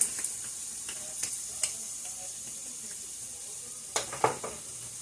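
Aglio olio seasoning being stirred into food in a pan, a low steady sizzle with scattered soft scrapes and clicks of the utensil, a few sharper clatters near the end.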